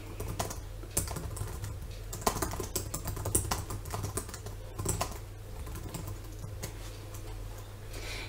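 Steady typing on a computer keyboard while a post is composed, with rapid irregular key clicks and occasional louder strikes over a constant low hum, close and alone without speech.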